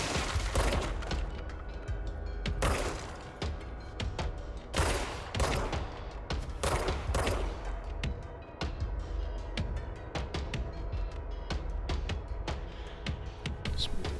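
Dense, loud gunfire from the video game Control rattles continuously in rapid bursts over a booming, busy background, with no voices heard.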